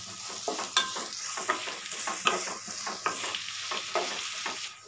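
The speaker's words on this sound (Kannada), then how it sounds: "ಮೀಡಿಯಮ್ ಫ್ಲೇಮಲ್ಲೇ ಫ್ರೈ ಮಾಡ್ಕೊಳ್ಬೇಕು." Onions fry in a pan over a medium flame with a steady sizzle. A spoon scrapes and stirs through them at regular intervals, close to the microphone.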